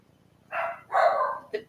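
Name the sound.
dogs barking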